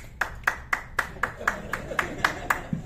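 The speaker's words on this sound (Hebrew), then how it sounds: "כפיים מי ששלוש." A small number of audience members clap in a slow, even rhythm of about a dozen distinct claps in response to a show of hands, crisp and close, over a faint room murmur.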